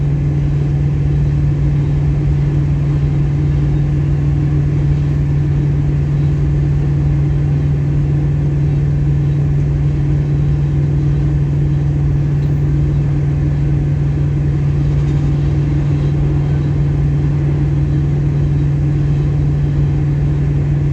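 A BNSF freight train rolls past in Friona, Texas as a steady, continuous low rumble with a strong droning hum, not especially loud, unchanging for the whole stretch with no voices.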